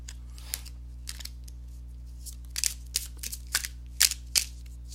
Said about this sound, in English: So let me go ahead and shuffle the cards.